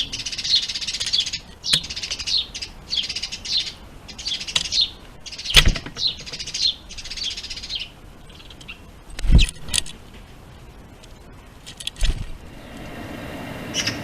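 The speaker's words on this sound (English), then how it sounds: "I enjoy the jerky movements of the wings as the magpies make their calls." Magpies give a run of harsh chattering calls in repeated bursts, with a few sharp clicks and knocks close by, recorded near the birds with no talking.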